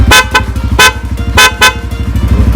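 A motorcycle dual horn honks loudly in several short bursts over a steady engine idle, close and blaring, on a Yamaha Sniper 150.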